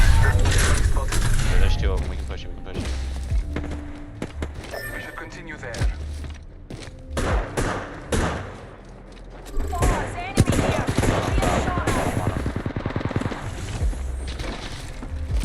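Rapid gunfire bursts during an Apex Legends ranked match, with crackling fusillades and mechanical clatter from nearby fights, mixed with game music and effects while a player talks over the action.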